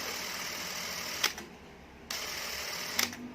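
Fujica ZC1000 Single-8 film camera mechanism running with a steady, close whirring hum, broken by two brief louder clicks or clunks partway through.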